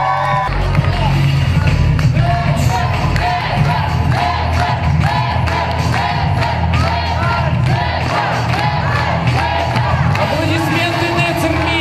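Audience at the closing ceremony of a Jewish film festival in Minsk applauding loudly and continuously, a dense wash of clapping with some cheers over music.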